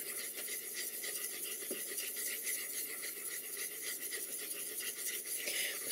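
A wide plane blade is sharpened on a 1000 grit stone, giving a continuous close rasping scrape with steady back-and-forth strokes and no talk.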